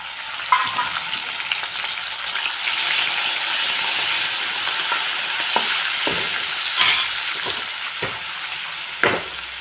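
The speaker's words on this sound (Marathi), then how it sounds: "सोडे चांगले तळून घेऊ" Dried prawns (sode) frying in hot oil in a home kitchen, a continuous bright sizzle with occasional sharper pops and crackles, close and steady, no voices.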